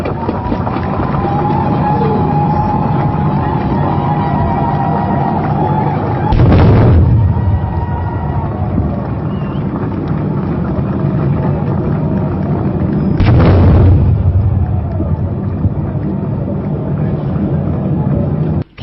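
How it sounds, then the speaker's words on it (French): Ceremonial cannon shots fired during the constitution ceremony of the Democratic Republic of the Congo: two heavy booming blasts several seconds apart, rolling over a steady crowd and outdoor murmur. "Trois coups de canon retentissent à nouveau"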